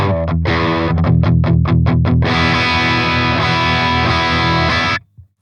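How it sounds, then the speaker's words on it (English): A Friedman BE-100 Deluxe amp on its clean channel with the fat switch on: bright, thick chords, first quick choppy strums and then a long sustained ringing chord that cuts off, loud and close. "the clean fat switch, which is going to make the clean channel sound more fat"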